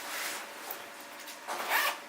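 A backpack zipper is pulled open in a couple of quick, soft rasping strokes, close by and fairly quiet.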